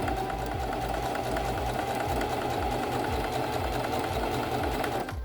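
Modern domestic sewing machine stitching a fabric seam, a fast, even, rhythmic mechanical whirr running close and continuous throughout.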